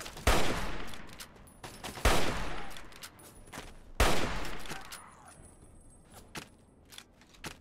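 Three loud, sharp hunting rifle shots ring out in Fallout 3, spaced about two seconds apart, each followed by a decaying echo. Fainter clicks and game sounds fill the gaps between them.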